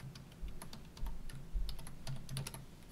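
Code typed on a computer keyboard, rapid irregular key clicks with a few heavier thumps, close and quiet, with no talking.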